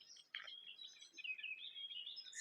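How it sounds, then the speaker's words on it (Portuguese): Faint birdsong from several birds, high chirps and trills overlapping continuously at a distance, with no voices. "Olha o barulho dos pássaros."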